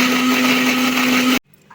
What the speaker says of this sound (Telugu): అల్లం వెల్లుల్లిపాయలు మిక్సీ పట్టేసుకుందాం.